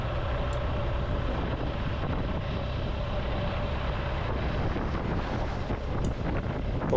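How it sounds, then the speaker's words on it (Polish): Strong coastal wind buffets the microphone of a motorcycle rider on Norway's Atlantic Road in rain, a constant, roaring rush with a low rumble underneath and no voices. "mimo deszczu i bardzo silnego wiatru, gdzie momentami miałem problem utrzymać motocykl na drodze"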